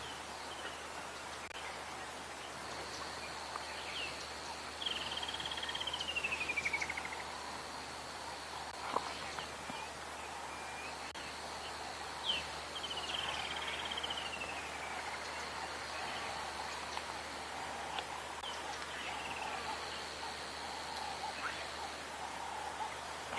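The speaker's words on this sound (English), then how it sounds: "Here's some frogs as well." Frogs calling at dusk in the open bush on a sunset safari, a faint, distant chorus of chirps and trills set in quiet evening ambience, with occasional whistling bird notes over it.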